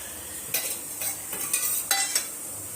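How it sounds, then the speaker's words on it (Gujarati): Short bursts of crackling sizzle as spices hit hot oil for tempering sambar, several brief hissing pulses close by with quiet gaps between them. "અહીંયા આગળ મમ્મી સંભારમાં વઘાર કરે છે"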